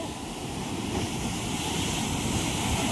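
Big sea waves rolling onto the shore during a typhoon in the Philippines, a continuous loud roar of surf mixed with gusting wind noise.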